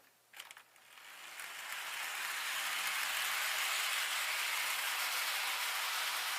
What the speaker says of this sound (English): he still runs at the same speed, and he could still pull these coaches just fine